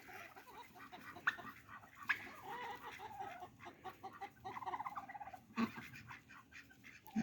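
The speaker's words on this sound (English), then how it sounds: "2 hens, Kiwi and Mango." Hens cluck and murmur softly in a small backyard flock, with scattered sharper calls and scratching sounds, fairly faint and close, no talking.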